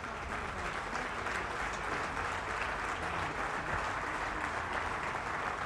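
Steady applause from a large crowd at a political event, Atreju 2021 in Italy, fills the whole stretch, dense clapping at an even level without a break.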